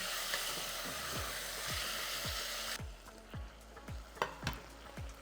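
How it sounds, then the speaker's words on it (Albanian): Meat frying on lowered heat for a spinach soup makes a soft, broad sizzle for the first few seconds. It then thins out into quieter crackling with a series of sharp, evenly spaced pops and spits. "e leni të skuqet për një 5 deri në 6 minuta"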